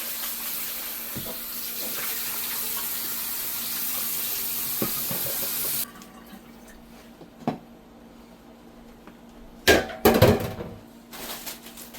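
Tap water pours steadily into a pot while peas are washed for stew peas, a close, even rushing stream that stops partway through, followed by scattered clinks and knocks of the pot.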